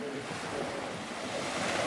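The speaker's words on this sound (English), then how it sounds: "we eventually reached to this beach, Salada" Ocean surf washes steadily onto Salada beach in Ibiza, Spain, a continuous broad roar of waves with wind noise buffeting the microphone and no voices.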